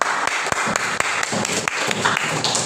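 A class of fifth-grade children claps hands together in a dense, continuous patter of many overlapping claps, with a few sharper individual slaps standing out, fairly close and loud throughout.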